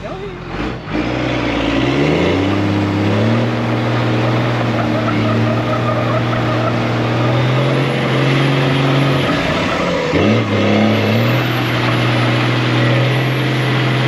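A dually pickup truck spins doughnuts on a wet, rainy lot, its engine holding a loud steady drone that dips briefly and climbs again, while people talk and shout close by throughout.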